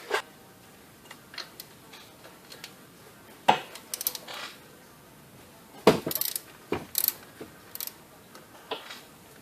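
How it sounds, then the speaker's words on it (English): A ratchet loosens the timing belt tensioner bolt on a 2006-2011 Kia Rio, giving sparse, close metallic clicks and clacks in short irregular bursts over a quiet background. "now I'm going to want to loosen up that tensioner bolt and tighten up that tensioner."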